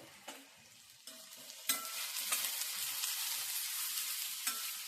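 Green chillies sautéing in a pan for a quick radish chutney, with a steady close sizzle that builds after the first second and is broken by occasional sharp scrapes and stirs of a spoon. Nobody speaks.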